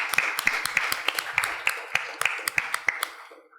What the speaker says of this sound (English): Can we give this room a huge round of applause?